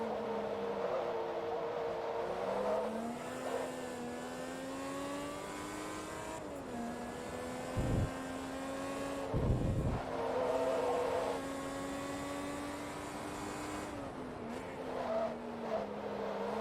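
A race car engine in the Forza Motorsport 2 video game drones and revs up through its gears, pitch climbing and dropping with each shift, and a couple of brief bumps come through the steady engine tone.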